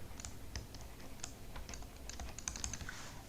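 Code is typed on a computer keyboard, a quiet run of quick, irregular key clicks with no voices.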